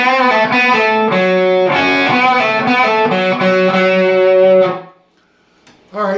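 A distorted electric guitar plays a lick as a loud chain of picked, sustained notes. It cuts off near the end, and another note starts after a short silence.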